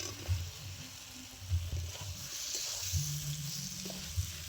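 Pre-fried jackfruit and potatoes drop into hot spice masala in a pan, a soft sizzle broken by several low thumps and stirring scrapes, quiet and close, with no talk.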